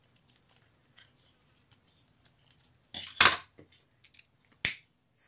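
Scissors snip ribbon while a bow is being made: a few faint small clicks and handling ticks, then two sharp, close cutting snips, the later one crisp and brief, in a quiet room.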